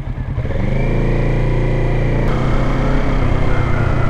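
Motorcycle engine revving loudly and steadily during an A2 licence training braking exercise, a close, continuous drone with a pitch shift partway through.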